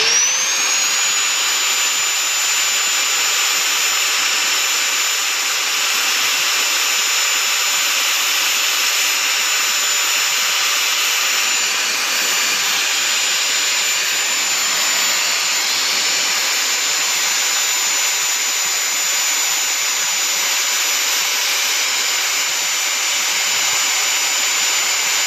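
A high-speed bench grinder runs continuously and loudly for a long stretch on a pair of pliers, its steady whine and hiss unbroken, with faint variations as it works the metal.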